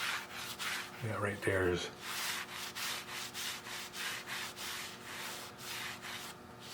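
Cloth rubbing repeatedly over a small steam engine part during cleaning, a steady series of close scrubbing strokes with a brief spoken remark early on.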